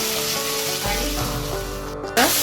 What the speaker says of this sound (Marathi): चवीनुसार मीठ आणि हिंग आणि हळद सगळं घालून घ्यायचं